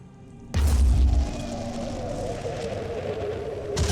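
A heavy grenade explosion in the video game Phoenix Point erupts suddenly with a deep, loud boom, then fades into a long rumbling tail, with another impact starting at the very end.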